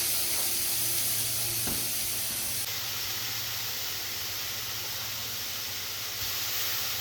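Greens and tomato frying in a little oil in a pan with turmeric, a steady close sizzle and hiss that runs evenly throughout without talk.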